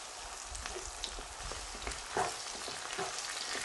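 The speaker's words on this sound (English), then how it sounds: "continue to mix this and just slightly darken the onions a bit more" Onions with a tablespoon of ginger-garlic paste frying and being stirred in a pan for kofta biryani, a steady soft sizzle with occasional scraping stir strokes, close and continuous.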